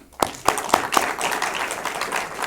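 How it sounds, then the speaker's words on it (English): An awards ceremony audience breaks into applause, starting with a few distinct sharp claps that quickly swell into a steady, full round of clapping from many hands. "Let's give a big round of applause to everyone."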